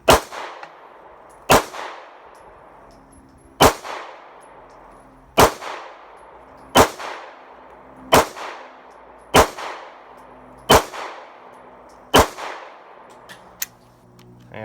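Nine sharp, loud gunshots from a Smith and Wesson SD9VE 9mm pistol ring out at a steady, unhurried pace at a shooting range, each with a short decaying echo and quiet gaps between.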